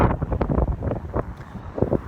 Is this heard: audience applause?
no